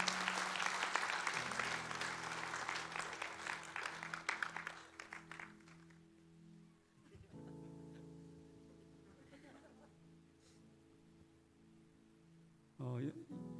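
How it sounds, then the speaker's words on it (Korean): A church congregation at a Sunday afternoon worship service applauds loudly for several seconds, the broadband clapping fading out to quieter organ-like tones and room noise. "박수 좀 보내주세요."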